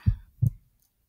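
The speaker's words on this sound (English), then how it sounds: "Listen to the sound of my heartbeat." Two soft, deep heartbeat thumps in a lub-dub rhythm, heard close and muffled as if with an ear against a chest, then quiet.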